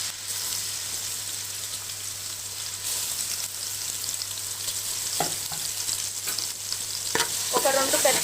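Onions dropped into hot oil in a pan for chicken gongura, with a steady crackling sizzle that grows louder and busier toward the end as stirring scrapes and clicks join in, nearby and without talk.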